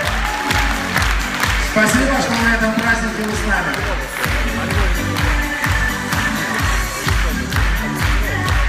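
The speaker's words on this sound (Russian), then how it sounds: "аплодисменты для вас" Audience applause and cheering fill a children's birthday-style celebration hall, steady clapping running throughout while a host speaks over the crowd.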